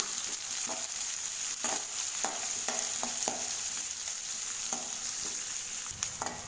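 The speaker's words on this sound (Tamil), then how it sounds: "வெங்காயத்தை வச்சு வதக்கி விட்டுக்கோங்க" Onions sautéing in hot oil with fennel and cumin for a kurma, a steady close sizzle broken by repeated scraping stirs of a spoon against the pan, with no talking.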